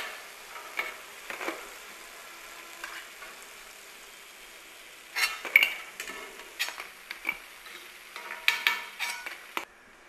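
Idly pieces frying in hot oil for idly manchurian, with a steady soft sizzle and scattered clinks and scrapes of a utensil that grow busier in the second half; no one speaks.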